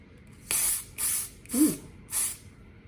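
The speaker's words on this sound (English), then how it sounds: "All you have to do is spray this on your spoolie" Four short spray bursts from a pump bottle onto an eyebrow spoolie, evenly spaced, close and crisp against a quiet background.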